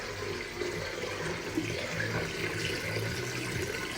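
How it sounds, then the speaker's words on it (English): Steady stream of tap water pouring into a steel pot of rice, continuous and close, with a faint low rumble underneath. "now I'm going to put or fill it with water."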